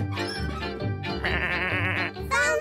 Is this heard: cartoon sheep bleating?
yes